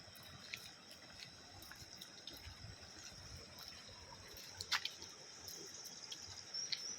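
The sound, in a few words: running stream water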